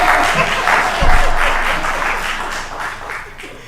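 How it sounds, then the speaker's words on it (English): Applause fills a city council meeting chamber in Orlando, steady dense clapping from the audience that holds for several seconds and slowly fades, with no talking over it. "Okay, now we're done with the applause."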